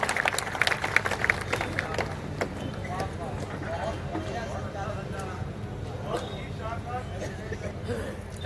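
An audience at an All India Kavi Sammelan poetry gathering claps steadily throughout in a dense crowd patter, with voices mixed in among the applause.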